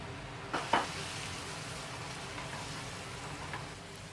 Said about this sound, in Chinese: 起锅热油，放入番茄，再加一点点盐，炒出汁水。